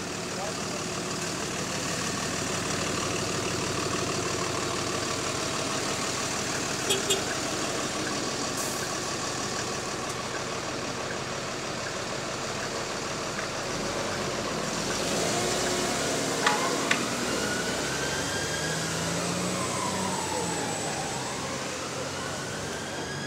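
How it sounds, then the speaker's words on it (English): A London double-decker bus engine idles at high revs at Brixton, a steady loud rumble with traffic noise around it and no talking. "High RPM idle as usual"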